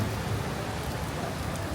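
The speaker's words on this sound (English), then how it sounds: "and it's pouring with rain" Heavy rain pours down steadily outdoors outside a shopping mall in Kuala Lumpur, a dense, continuous hiss that fills the scene with no voices.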